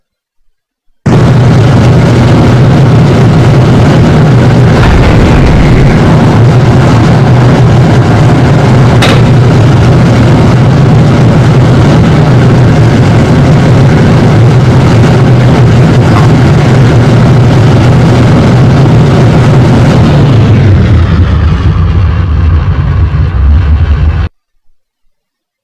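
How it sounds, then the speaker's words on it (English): Spaceplane engines in Kerbal Space Program firing for takeoff: a loud continuous roaring rumble that starts abruptly, holds steady for about twenty seconds, then thins and cuts off sharply. "as soon as I hit engage, it's going to take off because these engines are active"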